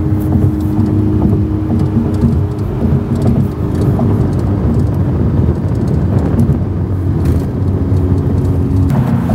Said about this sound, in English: Do you hear that weird clicking sound?